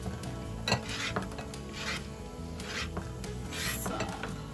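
Garlic sizzling in hot oil in a pan for Maultaschen aglio e olio, a steady close hiss with scrapes and light utensil clinks on the pan, no voices.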